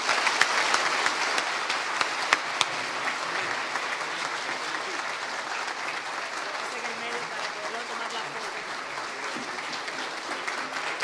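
An audience gives a lecture hall speaker a long, even round of applause, steady dense clapping from many hands that holds at a constant level throughout, with a few louder individual claps standing out early on.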